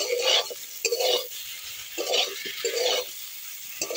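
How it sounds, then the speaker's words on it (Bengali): Spices being stir-fried with taro and potatoes in a pan, a spatula scraping and turning the mixture in repeated strokes with a faint sizzle, close and fairly loud. "দিয়ে এবার আরো ভালো করে কষাতে যাচ্ছি"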